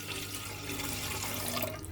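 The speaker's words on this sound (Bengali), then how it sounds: "এখন পাতিলের মধ্যে জল দিয়ে দিব।" Water poured from a tap or vessel into a cooking pot while making stovetop egg-and-milk pudding, a steady, close, continuous splashing and gushing stream with no talk.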